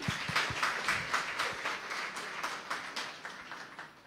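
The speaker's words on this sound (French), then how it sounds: "ça s'applaudit" Conference audience at an economics talk claps briefly, with sparse, distinct individual hand claps that come in an uneven rhythm at moderate loudness, without voices.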